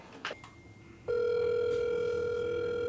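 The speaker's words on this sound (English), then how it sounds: "It's ringing." A steady electronic ring tone switches on after a second of quiet room noise and holds continuously, loud and close, like a phone line ringing through a handset.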